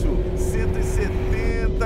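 Range Rover Evoque on a fast lap at the Interlagos circuit in fifth gear, its engine droning loudly and steadily at high speed throughout, with someone talking over it.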